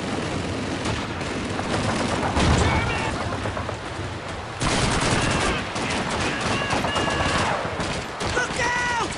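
Dense MG42 machine gun fire in a World War II Call of Duty battle, with continuous rattling bursts amid a wash of battle noise, under shouted voices and talk throughout.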